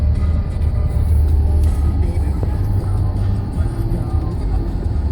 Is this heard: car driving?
yes